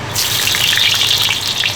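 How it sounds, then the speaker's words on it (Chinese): Ginger slices hit hot oil in a wok for a hotpot base, setting off a loud, close, bright hissing sizzle that swells quickly and holds steady. "油烧热，姜片下锅"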